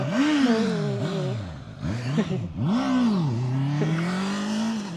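A Honda CBR650R or CB650R with E-Clutch rides past at a press test-ride event, its engine note rising and falling as it nears and recedes, loud and steady across the few seconds with no talk.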